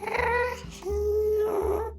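A house cat's low, drawn-out moaning wails, two long complaining cries with a brief break between, close and fairly loud, the cat later used as the Minecraft Ghast voice.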